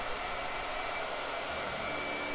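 Blow dryer running steadily, a continuous airy whoosh with a constant motor hum, close and unbroken throughout with no voices.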